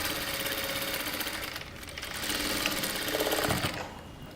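A sewing machine runs steadily, stitching a kurta seam at a half-inch allowance. The motor whirs and the needle chatters close up, with one brief dip in the middle before the machine picks up again and runs on alone.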